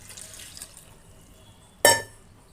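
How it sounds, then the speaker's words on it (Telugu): Water poured over cut tomatoes in a kitchen makes one short, fairly loud splash near the end, standing alone over a quiet background. "వాటర్ పోసుకోవాలి."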